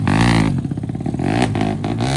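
A Daytona slip engine in a motorcycle revs hard, rising and falling in quick throttle blips with a rattling, stuttering idle between, loud and close.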